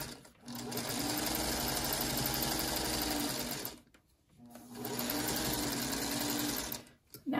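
A sewing machine stitches a crazy quilt paper block in two steady runs of rapid, even whirring, close and fairly loud, with a brief pause between them.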